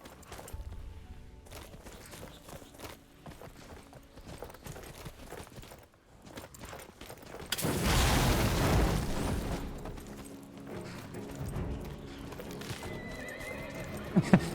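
A horse in the Skyrim video game whinnies and its hooves clip-clop during a fight, followed by a loud, sustained burst of noise like an explosion or spell, then clattering combat sounds.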